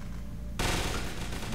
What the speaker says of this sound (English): The Russians are shooting with the Leone, and you're gonna help them.